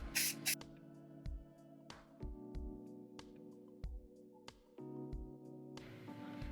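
Short repeated bursts of aerosol 3D scanning coating sprayed onto a Sony RX10 camera, a series of close hisses separated by brief pauses, with one longer final spray.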